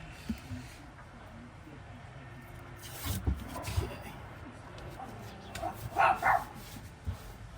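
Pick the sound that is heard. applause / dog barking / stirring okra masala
dog barking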